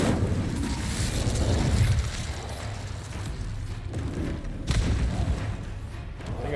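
An Incendio fire spell blasts in the Hogwarts Legacy video game, a loud, continuous roaring burst with heavy rumble that flares again partway through.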